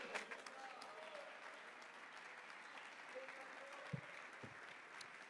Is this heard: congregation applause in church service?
yes